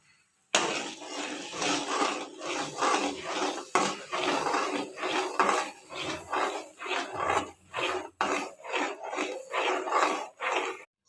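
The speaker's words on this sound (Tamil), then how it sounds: "இப்போ வாங்க ரவையை கிண்டலாம்" A spoon scrapes and clatters against a metal pot in steady, repeated strokes while stirring semolina, close and fairly loud, with no talking.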